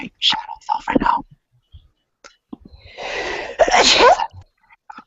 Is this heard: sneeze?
yes